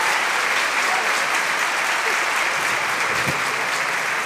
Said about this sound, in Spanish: nuestro querido mariachi, que se merece un merecidísimo aplauso